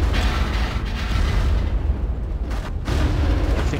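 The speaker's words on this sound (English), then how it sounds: "Rule number one, throw grenades." Grenade blasts in the video game Far Cry sound as heavy, loud booms and rumbling bursts. The low roar fills the whole stretch and dips briefly near the end.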